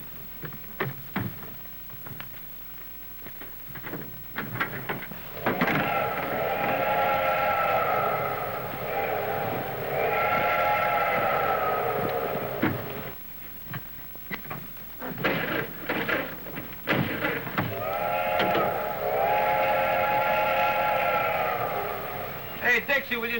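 A man mimics train whistles with his voice, giving several sustained, wavering whistle-like tones in separate bursts between stretches of quieter noise and clicks.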